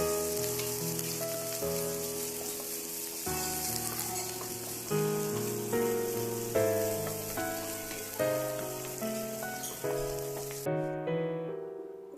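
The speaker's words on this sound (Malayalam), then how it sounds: "അതോടൊപ്പം തന്നെ കറിവേപ്പില ഇട്ടിട്ട് നന്നായി ഒന്ന് വഴറ്റിയെടുക്കാം." Shallots, garlic and curry leaves sauté in a pan with a steady, gentle sizzle that sits beneath louder background music throughout.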